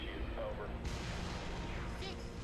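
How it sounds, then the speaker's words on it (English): Orbital bombardment explosions in the Halo Reach co-op campaign come as a dense wall of rumbling booms and crackling gunfire-like bursts, loud and continuous from start to finish. "Oh, orbital bombardment."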